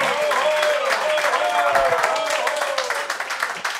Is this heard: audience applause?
yes